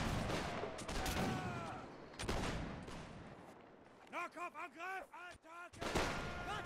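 Musket volleys in a Napoleonic line battle video game, scattered crackling shots and a ragged fusillade, with distant whistle-like tones and a player's voice nearby.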